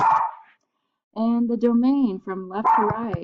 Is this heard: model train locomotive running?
no